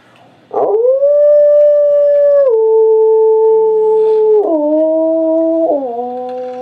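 A person vocally imitates a growling stomach for Percival, a character aboard a ship with a stomach ache during a tabletop adventure; one loud, sustained, howl-like tone holds steady, then drops in pitch in a few sudden steps, with no talking.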